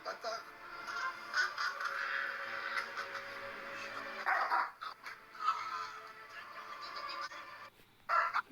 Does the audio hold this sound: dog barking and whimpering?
yes